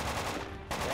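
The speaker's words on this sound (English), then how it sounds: "I shoot armor piercings. I shoot AP." Armor-piercing gunfire in the Project Reality video game comes as a fast stream of close automatic shots, briefly pausing before resuming, with no talk over it.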